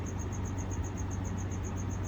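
Feeder crickets kept in an African banded toe gecko enclosure chirp in a steady, evenly spaced high trill, faint and continuous over a low background hum, with no voices.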